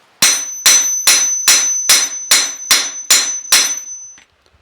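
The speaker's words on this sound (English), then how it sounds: "you can honestly just fix that cold at the anvil" Eight evenly spaced, loud ringing hammer blows strike a railroad spike knife held cold on an anvil, each hit bright and metallic with a short decay, then silence.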